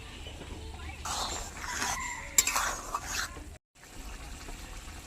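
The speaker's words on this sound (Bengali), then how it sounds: "একটু নাড়িয়ে চাড়িয়ে নেব" Okra and potato curry stirred in a pot, a soft, continuous scraping and sloshing of the gravy, close and moderately quiet, with a brief louder clatter midway and a short gap near the end.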